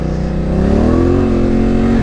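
A Yamaha Tenere 700 dual-sport motorcycle on a motorized trail revs up close and loud, its engine pitch climbing steadily over two seconds with a rough, throaty drone.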